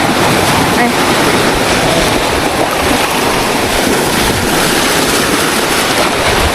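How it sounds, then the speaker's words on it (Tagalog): Strong sea waves pound a rocky beach at Real, Quezon, a dense, continuous roar of surf mixed with wind buffeting the microphone, loud and close throughout. "sobrang lakas ng alon"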